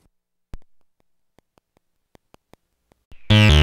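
A Herbs and Stones Liquid Foam modular synth sequencer plays a sparse pattern of short clicky ticks at uneven spacing, ending in a sudden loud burst of dense noisy tone.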